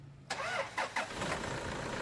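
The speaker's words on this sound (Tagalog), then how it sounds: "Tapos pa-start ko na itong makina." A Toyota Innova engine with 268,000 km, just fitted with a new timing belt, cranks briefly, catches and settles into a steady idle, close by and fairly loud.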